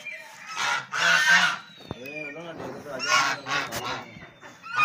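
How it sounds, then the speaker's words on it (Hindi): Hungry ducks on a small farm calling out noisily, a series of loud, nasal honking quacks in bursts with short gaps between them, close by with faint background sounds. "बत्तखें बहुत भूखी हो रही हैं, शोर कर रही हैं।"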